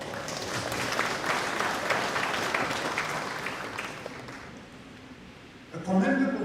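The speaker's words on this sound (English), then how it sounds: "No wonder they are clapping." Audience applause at the 60th Bank of Sierra Leone dinner celebration in Freetown, a dense crowd clapping loudly that fades over several seconds before a voice begins speaking.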